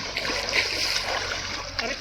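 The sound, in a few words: splashing in swimming pool water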